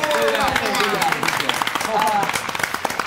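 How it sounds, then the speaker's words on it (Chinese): Studio audience clapping for a guest on a Taiwanese TV music variety show, a brisk continuous patter of applause with a host's voice talking over it throughout. "那我们再把掌声送给明明舅"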